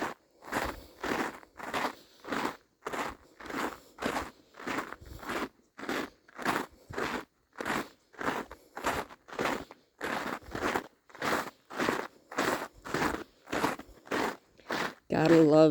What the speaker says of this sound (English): Gotta love the crunchy snow ASMR.